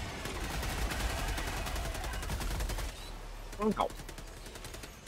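Rapid machine-gun fire from a bug-squashing video game rattles loud and continuous, then drops to quieter bursts, with a short exclamation from a player partway through.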